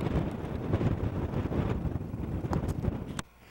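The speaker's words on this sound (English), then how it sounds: "We have a nice southwest wind." Southwest wind buffeting a microphone on a mountain summit along Idaho's Lemhi crest, loud gusty rumbling throughout that drops away suddenly near the end.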